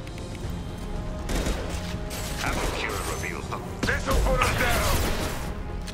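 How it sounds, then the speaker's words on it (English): Gunfire in Mass Effect 2 aboard the MSV Estevanico, a run of mechanical clattering shots and impacts layered over dramatic music, growing louder and heavier toward the end. "I hear shooting, too."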